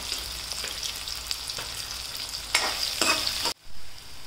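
Onion, tomato and green chillies fry in a pan with a steady close sizzle, stirred with occasional scraping strokes, until the frying noise abruptly drops away near the end.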